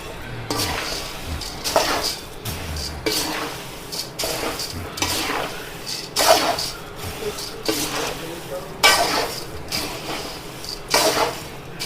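Puffed rice is tipped into spiced turmeric oil in a pan and stirred, giving repeated scraping and clinking strokes of a spoon against the metal pan in a steady rhythm with a light rustle of the grains.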